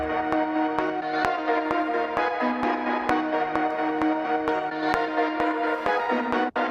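A melodic sample from a producer's kit loops steadily alongside a sharp, evenly spaced click track, with sustained tonal layers filling the background and no talking.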